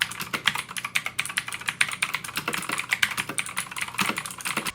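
Fast, steady typing on a 1st Player MK6 Bullet Hunter keyboard with double-color injection keycaps, producing crisp, close clacking keystrokes in a dense, irregular stream.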